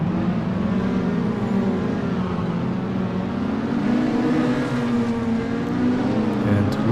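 Race car engine in the video game FlatOut drones continuously at steady high revs, a loud, close mechanical hum with slight pitch wavering as the car speeds along a track, no voices heard.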